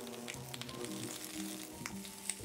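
Korean blood sausage (sundae), warmed in a microwave, goes into a hot pan with vegetables and garlic slices fried in oil. It sizzles steadily and close by, with a few faint scraping and stirring clicks and no talking.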